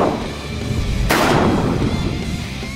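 One loud, close handgun shot fired from inside a jacket pocket cracks out sharply, followed by a fading reverberant tail.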